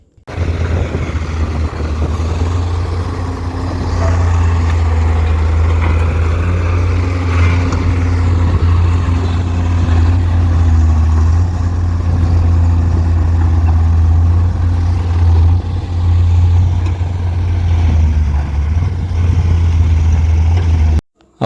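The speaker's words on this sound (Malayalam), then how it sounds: "2 JCB ഒരേ സമയം നിന്ന് ഒരു റെസ്റ്റും ഇല്ലാതെ ജോലി ചെയ്തുകൊണ്ടിരിക്കുകയാണ് കേട്ടോ." Two JCB excavators working without pause to clear river mud at a riverbank, a steady loud diesel engine drone with a strong low hum running continuously throughout.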